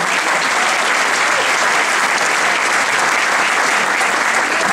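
Sustained applause from a church congregation during a pastor's sermon, a dense, even wash of many hands clapping at once that holds steady and loud throughout with no break.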